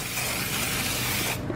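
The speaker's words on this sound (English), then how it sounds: "Spray the top of the chicken." A short, steady hiss of cooking oil spray misting over chicken strips in an air fryer basket, close and continuous, then cutting off.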